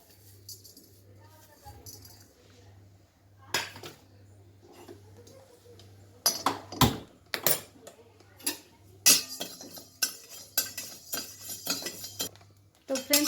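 Sharp crackling and popping bursts from fenugreek seeds roasting in a hot pan, sparse at first and then growing dense and rapid, over a low steady hum.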